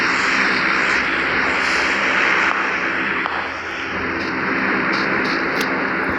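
Steady, loud airplane engine drone from a video game, holding as a continuous roar throughout with no pauses and a slight dip midway, with no talking over it.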